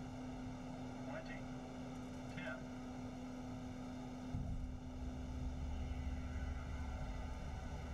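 Steady propeller and turboprop engine drone of a Beechcraft C90 King Air landing in the X-Plane 11 simulator, a constant tonal hum with a brief cockpit alert tone, then a deeper rumble as the wheels roll onto the runway.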